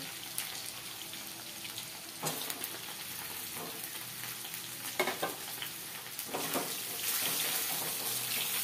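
Eggplant pieces added to potatoes already frying in oil with panch phoron for a Bengali curry, giving a dense, steady sizzle with a few bursts of stirring and scraping up close.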